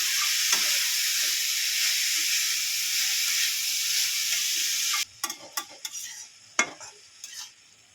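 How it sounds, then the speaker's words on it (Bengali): Vegetables with salt and turmeric frying in a pan give off a steady loud sizzle that cuts out partway, followed by scattered scrapes and clatters of stirring, with no voices. "হলুদ দিয়ে দেবো ভালো করে এটাকে আবার একটু নাড়িয়ে চাড়িয়ে নেব"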